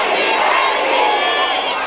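A concert crowd at a show roars back a chant in unison, a loud sustained wall of many voices cheering and shouting together.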